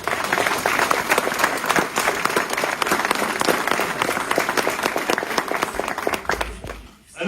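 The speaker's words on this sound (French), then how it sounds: "Et vous pouvez l'applaudir bien fort." A crowd at a carnival season opening in Cappelle-la-Grande applauds loudly and steadily for several seconds, the clapping dense and continuous before tapering off at the end.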